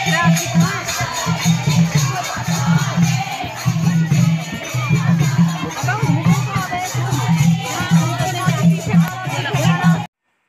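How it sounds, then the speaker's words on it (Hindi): A dense crowd outside a temple with dancing and singing, loud steady babble and chatter with rhythmic music pulsing underneath throughout. "बाहर देखो कितनी भीड़ है यहाँ पर नाच गाना चल रहा है"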